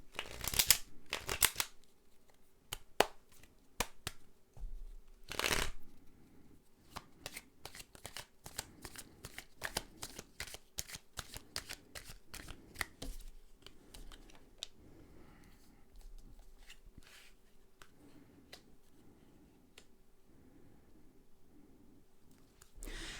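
Tarot cards are shuffled by hand in a quiet room, giving crisp riffling bursts and soft flicks and taps that come in irregular clusters, loud at first and then softer and sparser.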